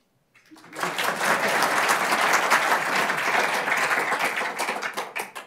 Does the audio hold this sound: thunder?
no